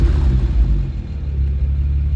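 A BMW E89 Z4 35i with a Remus catback exhaust rumbles at a steady, deep idle just after starting, loud and close with no voices.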